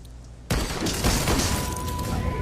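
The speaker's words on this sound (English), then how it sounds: "The sound of high-caliber rifle shots hang in the air" High-caliber rifle fire in the Shadowrun Hong Kong video game: a sudden loud blast after a quiet moment, followed by a sustained roar of echoing shot noise and debris.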